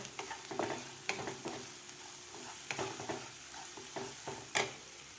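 Turmeric and coriander powder stirred into frying masala paste for a bottle gourd dish: soft sizzling under frequent spatula scrapes and taps against the pan, fairly quiet and close.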